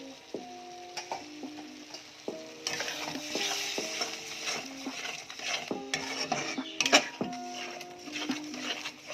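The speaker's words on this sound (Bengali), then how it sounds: "এইভাবে আরেকটু কষাবো" Spice paste with peas cooks down in oil in a pan, a soft sizzle under repeated metal scrapes and clinks of a spatula against the pan, fairly close and quiet, no talking.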